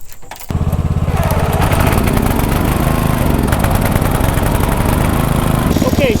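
A riding lawn mower engine, used off grid with a tiller attachment, starts up after a brief clatter and runs loud and steady close by, a dense continuous drone.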